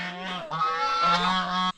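Geese honking close by on a trek in Colombia, two or three loud nasal honks in quick succession, harsh and clear with nothing else around them.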